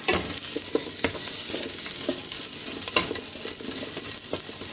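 Salami fries in a pot for a Puerto Rican style sausage soup, giving off a continuous close sizzle while a spoon stirs it with light scraping and clinking. No speech is heard.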